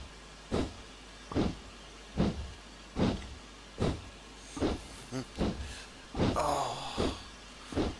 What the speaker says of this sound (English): he gets to hear this bark